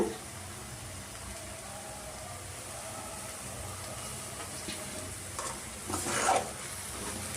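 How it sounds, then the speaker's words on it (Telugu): A potato and green chili fry with coriander is stirred in a pan over a faint, even sizzle, with soft scraping strokes and one brief louder scrape toward the end. "కొత్తిమీర వేసుకున్నాక ఒకసారి కలుపుకున్నామండి"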